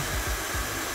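A Laifen Swift hair dryer with anion output running at level 2, a steady loud rushing airflow hiss with a faint low pulsing, heard alone for about a second.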